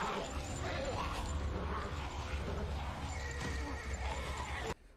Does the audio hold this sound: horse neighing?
yes